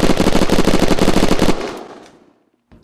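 Rapid burst of automatic gunfire from the Matamoras gun shot at a locker in the survival game Unturned, a loud rattling volley of about a second and a half that cuts off and rings out, followed by a faint thud.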